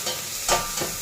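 Onions go into hot oil with cumin and biryani masala for a tempering. A brief, close sizzle rises in a couple of quick hissing bursts, and no one speaks.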